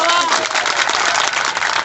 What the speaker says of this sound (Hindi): तो ये आपके लिए भी तालियां हैं